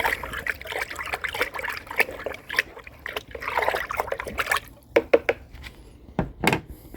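Liquid from a mix of about 8 litres poured onto plants in a wet winter garden, trickling and splashing in uneven bursts with short pauses between pours, close and fairly quiet.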